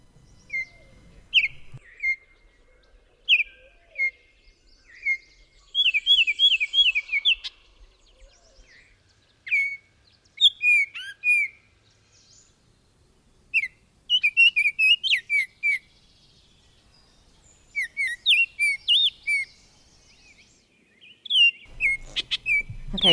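Clear, flute-like Baltimore Oriole whistles come in short phrases separated by pauses, bright and fairly close, with no other sounds around them.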